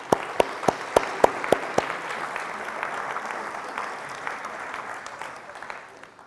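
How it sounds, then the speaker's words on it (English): Applause from an audience at a keynote event on workforce housing, starting with a few sharp, distinct claps and swelling into a steady, moderately loud crowd clapping that slowly tapers off. "How about a round of applause?"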